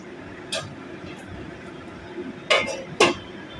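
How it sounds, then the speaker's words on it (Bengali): Metal pot lid handled over a simmering raw mango curry, with a faint clink near the start and two louder, sharper clanks close together near the end, over a soft steady background. "ঢাকনা খুলে দিচ্ছি, দেখুন।"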